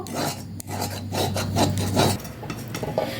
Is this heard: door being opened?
no